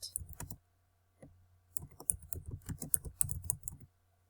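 Typing on a computer keyboard while entering an event title in Microsoft Teams: quiet, close clicking keystrokes in two short bursts with a pause between, the second run longer and more rapid.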